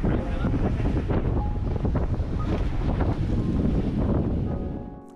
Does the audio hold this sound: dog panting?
no